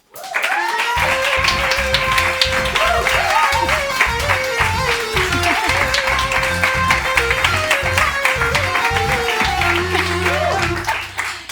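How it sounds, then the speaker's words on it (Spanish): A studio audience applauds a guest actress arriving on a television game show, loud, dense clapping running throughout with music playing underneath, and a voice joins near the end. "Un aplauso para Eva Llorach"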